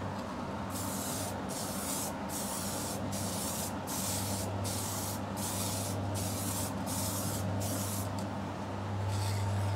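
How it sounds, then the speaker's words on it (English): Spray gun laying a light mist coat of sealer onto a guitar body, a steady hiss broken into a dozen or so short bursts at a regular rhythm, with a constant low hum from compressor or extraction running underneath. "So it's really important just to do very light mist coats."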